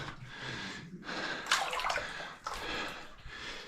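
Splashing and sloshing water as a stick probes a deep flooded pool inside an old goldmine cave, several close irregular stirring bursts echoing faintly in the enclosed space.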